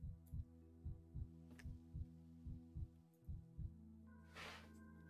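In the video game Pathologic 3, a low, muffled heartbeat thumps in a steady double-beat rhythm beneath a droning hum, ending in a brief rising hiss as the beats stop.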